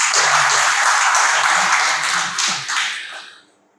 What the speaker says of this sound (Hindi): ताली बजा सकते हो फेमिनिस्ट लोग